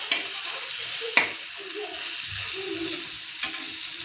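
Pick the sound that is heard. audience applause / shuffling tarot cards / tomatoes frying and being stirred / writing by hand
tomatoes frying and being stirred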